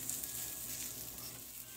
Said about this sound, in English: the waffle heater is warmed up and I'm just gonna put a little bit of this chaffle mix in there